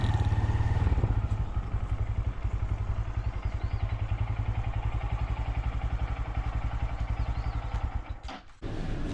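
A motorcycle engine hums steadily with a low, pulsing drone and some clatter while riding through Niigata City, Japan, close and loud, then briefly dips and shifts near the end.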